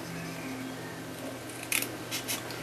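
Paper snips cutting along a pencil line on cardstock for a stamped baby carriage card, giving a few quick, close crisp snips over a steady low room hum.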